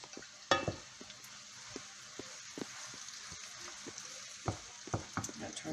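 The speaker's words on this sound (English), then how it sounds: "I'm going to throw in a couple sprigs of this thyme in here as we saute that" Thyme sprigs sautéing with mushrooms in a pan for cream of mushroom soup, giving a steady soft sizzle broken by scattered clicks and scrapes of stirring, close and fairly quiet.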